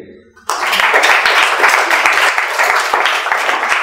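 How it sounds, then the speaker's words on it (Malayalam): An audience breaks into loud, sustained applause after a talk on fighting misinformation, many hands clapping together close and dense, with no voices over it. "ഒരു കൈയടി"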